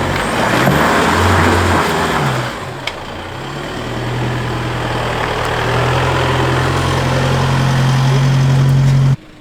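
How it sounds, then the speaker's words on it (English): A 4x4 engine drives forward along a sandy track at Mcbrides Beach near Forster, a steady low rumble that dips briefly, then builds and holds loud and close until it cuts off at the end. "Hold that lock, come forward, accelerate a little bit."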